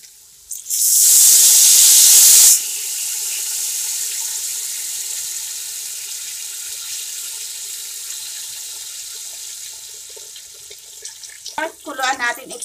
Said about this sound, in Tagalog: So, lagyan po na natin ng tubig.